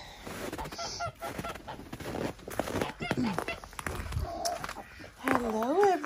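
Geese honk in a farm enclosure shared with ducks and chickens. The calls are scattered and fairly close, with a loud run of harsh honks near the end, and voices talk over much of it.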